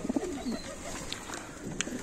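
Adana pigeons in a loft give soft, low coos in short repeated phrases, close by, with a few brief higher chirps and rustles over a steady room background.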